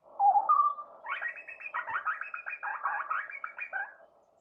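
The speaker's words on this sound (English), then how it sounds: "it's the grey butcherbird, Craticus torquatus, a relative of the Australian magpie" A grey butcherbird, relative of the Australian magpie, calls alone: a short low piping note, then a rapid run of fluting, warbling phrases, clear and fairly close against silence.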